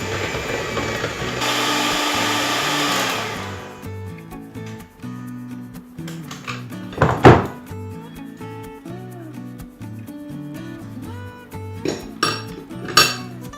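Feijoa batter being mixed in a bowl, a spoon or spatula clattering and scraping against the sides in uneven strokes, fairly loud and close, with a few sharper knocks and a short whooshing burst at the start.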